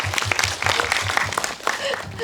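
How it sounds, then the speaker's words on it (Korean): Audience applause at a Korean film screening Q&A for the movie Hell Is Other People style event, a steady wash of clapping with voices mixed in throughout. "박수 부탁드릴게요"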